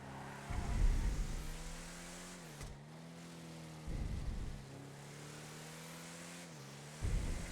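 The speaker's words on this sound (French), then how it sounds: "La moto qu'il est en train d'essayer, tu vas voir." A motorcycle being test-ridden passes nearby, its engine droning steadily with repeated surges of revving and shifting pitch over several seconds, heard at moderate distance.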